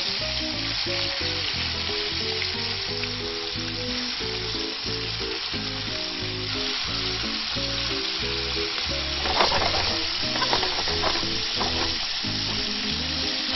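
Freshly caught whiting fry in a pan with a loud, continuous sizzle and crackle that runs without a break, and a low background hum sits beneath it, heard close up with no talking.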